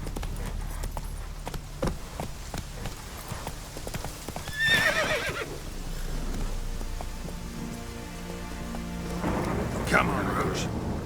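Geralt's horse Roach gallops in The Witcher 3 with rapid clip-clopping hooves and a sharp neigh, set against rain and rolling thunder, with brief speech nearby.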